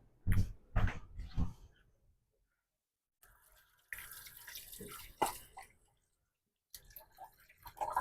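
Fingers rinsed under a running kitchen tap at close range, with water splashing in irregular bursts split by short silences.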